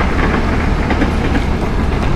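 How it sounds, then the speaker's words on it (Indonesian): A train rumbles past close by in Purwakarta, Indonesia, steady broadband roar with rhythmic clatter of wheels over rail joints throughout. "kaget ada kereta"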